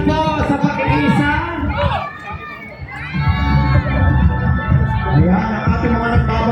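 A large crowd at a Pasig Day celebration in Ortigas Center cheers and shouts, loud excited voices and children's yells rising and swelling while an announcer talks over the noise.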